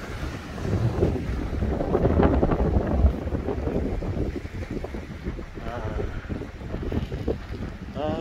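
Steady seaside wind buffets the microphone along a coastal walking path, making a continuous roar. Someone speaks Korean over it.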